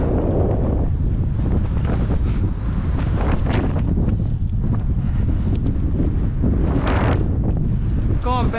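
Strong wind blows across the microphone during an autumn bike ride on a trail, a loud, constant rumbling buffet that fills the whole stretch with no voices.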